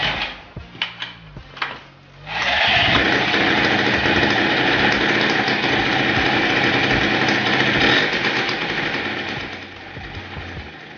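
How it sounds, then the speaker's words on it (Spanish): A freshly rebuilt Derbi Variant moped engine sputters through a few kicks, then catches at about two seconds and settles into a loud, close, buzzy two-stroke idle that wavers slightly before easing down. "Parece que la moto arranca más o menos bien."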